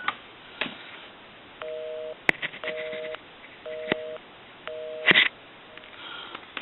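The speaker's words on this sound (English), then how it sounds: "we'll call my number, and that will be busy" An India wood wall telephone, repaired, plays a busy signal: a steady pulsing tone repeating in short, evenly spaced beeps, interrupted by occasional clicks and rustling handling noises.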